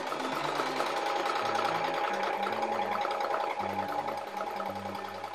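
A sewing machine stitches an embroidered bib, running close and steady with a fast, even mechanical whirr and a rhythmic low hum that shifts pitch as the speed changes.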